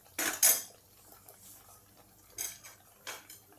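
A spoon stirs red chilli chutney made from dried desi and Kashmiri red chillies in a pan with unsalted butter, giving a few sharp metallic clinks and scrapes with quiet gaps between them.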